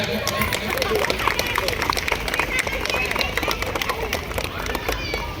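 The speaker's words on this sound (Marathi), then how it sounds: "सन्मान आहे जरा जोरा टाळ्या" Audience clapping at a Ganesh festival celebration run by a neighbourhood Ganesh mandal trust, a dense continuous patter of many hands over crowd murmur, with voices talking through it.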